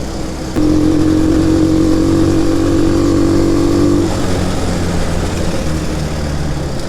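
A Shineray 250 quad engine while riding on two wheels, a loud, steady droning growl with a sustained tonal whine that holds for a few seconds, then eases to a lower hum.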